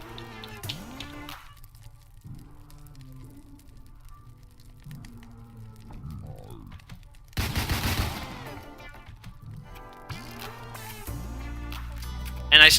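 Gunfire from a 9mm handgun in the video game Deadbolt: several sharp synthetic shots and a burst of blasts among other game effects, loud and close, with no speech.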